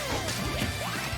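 A sharp smash-attack hit in a Super Smash Bros. singles tournament match lands as a brief crashing impact over constant, dense game sound.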